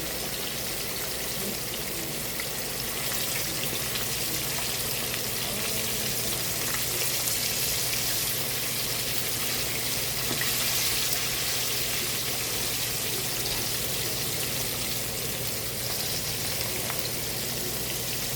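HQ-brand chicken fries in pure lard in a cast iron skillet, giving a steady, dense crackling sizzle that holds level throughout with no talking over it.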